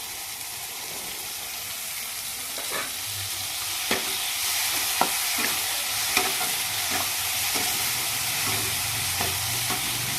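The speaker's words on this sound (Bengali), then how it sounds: "মশলাটা আমার সুন্দরভাবে কষানো হয়ে গেছে" Spice masala of cumin powder and black pepper powder cooks in white oil left from frying chicken, a steady close sizzle with repeated sharp scrapes and clinks of a spoon stirring through the pan.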